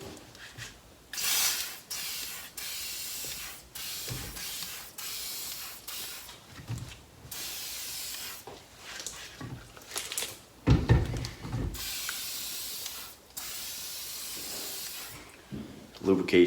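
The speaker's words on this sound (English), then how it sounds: "WD. Spray everything. Make a mess." Several bursts of hissing WD-40 aerosol spray, close by, separated by short pauses and faint handling noises, while changing a pit bike tire.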